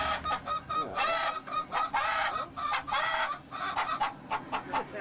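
Chickens clucking repeatedly in a rapid, uneven series of close, fairly loud calls, with a rooster-like crowing note mixed in; no speech is heard.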